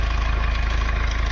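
Steady close-up idle of a Mahindra Scorpio S9 engine with a noisy timing chain, a loud low rumble pulsing evenly with a rapid mechanical rattle, no voices.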